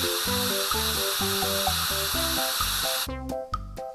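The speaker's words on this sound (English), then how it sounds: "Move the washer along the vehicle to clean up the rest of the foam." Pressure washer hiss in a children's cartoon game, spraying foam off a drop side truck during a car wash, a steady broad spray running continuously over a bouncy melodic music loop, then cutting off near the end.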